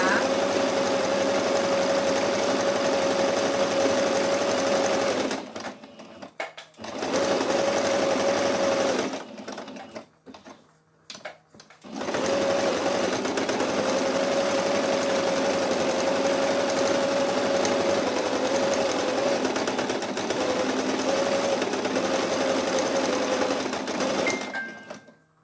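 A sewing machine stitches the arm of a snowman doll, running in loud, steady bursts with short pauses between runs, close and clear, with a faint voice at times.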